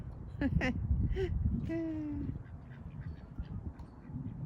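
Several loud, nasal honking calls from aggressive geese in a farm shed in the first half, followed by a long drawn-out honk, over a busy background of noise and movement.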